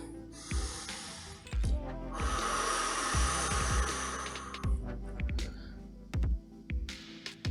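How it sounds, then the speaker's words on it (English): Deep, close breaths at the end of a yoga session, with several sharp nasal inhales and snort-like exhales over a steady low rumble, some strong drawn-out breaths through the middle. "One last deep breath in."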